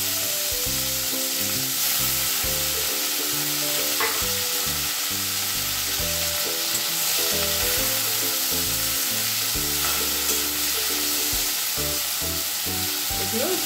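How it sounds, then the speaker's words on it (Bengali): Sliced bitter gourd frying in hot oil in a wok: a steady, loud crackling sizzle with occasional stirring scrapes, over background music. "এগুলো একটু কড়া করে ভেজে নেব।"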